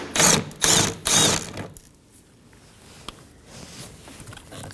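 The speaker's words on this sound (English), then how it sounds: "Hold the reservoir up while you remove this last bolt." A power tool backs out the last bolt holding the windshield washer reservoir on a 2020-2027 Toyota Corolla, sounding three loud close whirring bursts followed by quiet handling.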